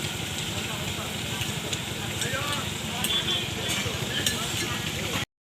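Hilsa fish and shrimp frying on a large tawa produce a steady, dense sizzle and crackle close by, with faint talk in the background.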